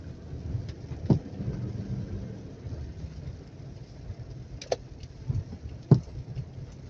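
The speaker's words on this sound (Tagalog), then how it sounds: "Lakas pala ng ulan dito guys." Steady heavy rain hisses continuously at Laguindingan Airport, Cagayan de Oro, with a few louder thumps and splashes standing out now and then; no voices.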